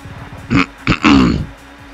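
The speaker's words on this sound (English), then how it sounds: "I am really trying to clear my throat here" A person clears their throat loudly and close up, in three rough bursts with a short pause after the first.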